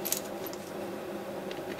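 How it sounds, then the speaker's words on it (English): Small screws being rummaged for inside a little Ziploc plastic bag during a Bose Lifestyle music centre CD gear motor repair, giving faint, close metallic clinks and soft rustling for a moment, with no talking. "I'm fishing about in a little Ziploc plastic bag at the moment."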